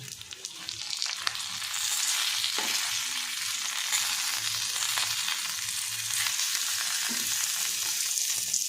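Hilsa fish wrapped in bottle gourd leaves fries in a pan as the parcels are flipped one by one, a steady close sizzle with occasional soft scrapes and taps from turning.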